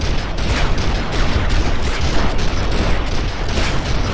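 Dense, loud gunfire in the PS2/PC video game The Matrix: Path of Neo, a steady barrage of overlapping shots and booms with no pause.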